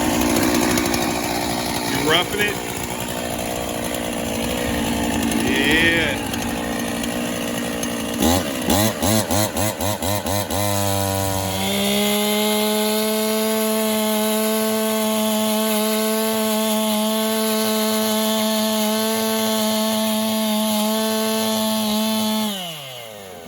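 A chainsaw cuts wood on rural off-grid land in Tennessee, with a few sputtering pull-start bursts and brief talk before it settles into a loud, steady, close engine whine that runs for about twelve seconds.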